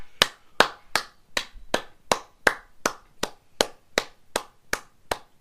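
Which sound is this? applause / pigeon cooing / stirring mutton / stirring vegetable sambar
applause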